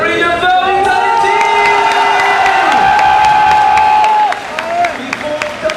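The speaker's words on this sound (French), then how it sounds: "On les applaudit bien fort, Vitality!" A video game event crowd applauds and cheers the esports team Vitality, with loud sustained clapping and cheering and a strong tonal music or announcer layer running under it, fading slightly near the end.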